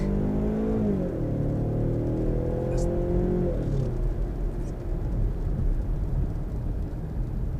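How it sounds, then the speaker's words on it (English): A 2015 Ford Mustang engine rumbles deep and throaty, revving up and shifting, with a low steady growl continuing underneath as the car drives. "Now that has a really good rumble in it."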